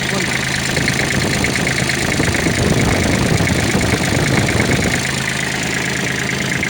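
A Kubota L3408 tractor engine idles steadily up close, a loud mechanical chug with a brief rise in rumble midway before settling back.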